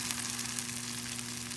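Chicken fried steak, a floured and egg-dipped cut of beef, sizzles steadily in hot oil in a pan. The frying hiss is constant and close, with a low hum underneath and no voices.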